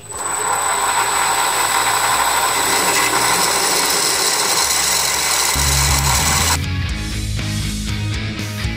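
A drill bores a 5 mm hole in a homemade chuck key for a lathe's universal chuck, a loud, steady machining drone that shifts lower and rougher near the end, with no voices.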